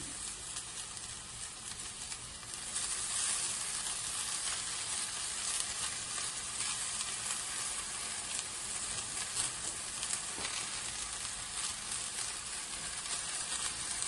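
Onions and fenugreek leaves frying in a pan for a fenugreek curry, a steady soft crackling sizzle that carries on throughout, faint and alone with no voices.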